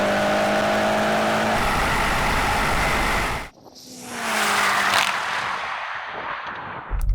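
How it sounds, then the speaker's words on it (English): A tuned high-performance four-door sedan launches hard off the line in a drag race, the engine roaring loudly before cutting out abruptly, then building again with a rising rev and a chaotic, uneven pull. "this car was like bucking and spinning its wheels and just a little bit chaotic off the line"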